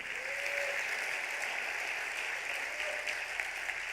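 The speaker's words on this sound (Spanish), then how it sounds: "Dale un fuerte aplauso al que vive." A church congregation at a Wednesday teaching service claps in a steady, even wash of applause that holds at moderate volume from start to finish.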